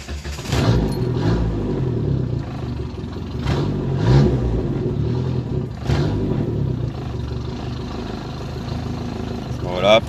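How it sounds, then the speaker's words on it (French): A new car engine, still being run in at about 1000 km, is started and revved with rising and falling mid-pitched surges, while a person talks over the steady engine noise. "on va démarrer le véhicule."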